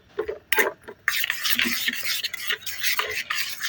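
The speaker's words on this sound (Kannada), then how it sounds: "ವಾಟರ್ನ ಹಾಕಿ ನೀಟಾಗಿ ಮಿಕ್ಸ್ ಮಾಡ್ಕೋಬೇಕು ಇದನ್ನ" Royal Canin dog food for a golden retriever puppy being stirred with warm water in a bowl, a steady close scraping and mixing that comes in irregular bursts.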